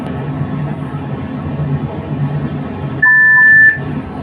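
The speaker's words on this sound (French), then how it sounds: "on entend un deuxième bip" Low mechanical hum in the cab of a CC 72000 locomotive in the game Train Simulator Classic, then a single sustained electronic warning beep under a second, sharp and clear above the droning background.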